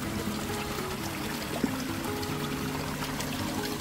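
Water flowing around old mud-and-stone buildings at a natural spring area with waterfalls in the Atlas mountains, a steady close pouring and trickling wash that runs continuously without voices.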